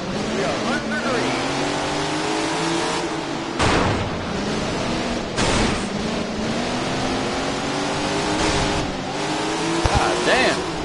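A pack of 410 sprint cars at a race start in the Tony Stewart Sprint Car Racing game roar loudly, engines climbing and revving together, with brief harsh bursts as voices talk over them.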